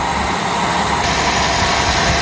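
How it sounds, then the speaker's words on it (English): A car engine idles roughly just after starting while warming up, hesitating with a faint knock, a steady loud mechanical drone running close and unbroken with no talk. "it's firing up, running a little rough, kind of hesitating and bouncing a little bit here"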